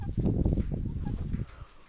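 Loose farm chickens flapping and clucking up close while they are herded back toward a pen, with a dense burst of bird noise that drops away toward the end.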